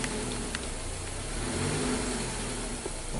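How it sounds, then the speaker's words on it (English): A 2019 Kia Rio with an intermittent misfire is revved while parked, its engine holding a steady mid-pitched drone with a gentle swell in speed partway through. "Let's rev this and see what's going on."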